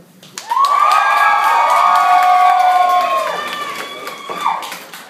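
A Nerd Nite audience in New York cheers for Edward, a loud burst of shouting and high squealing whoops that swells quickly, holds, then fades with scattered claps.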